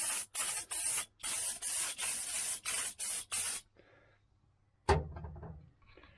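Undercoating sprayed onto the replacement floor pans of a 1978 El Camino SS: about eight loud, close hissing spray bursts in quick rhythm, then near silence and a brief rustling knock at the end.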